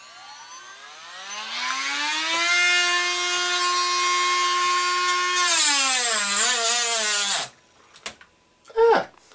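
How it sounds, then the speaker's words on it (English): A Dremel rotary tool fitted with a cutoff wheel whines loudly as it cuts through tubes, its pitch rising, holding steady, then dipping under load before stopping abruptly, followed by brief faint clatter. "we're going to just use a Dremel tool that we have handy with a cutoff"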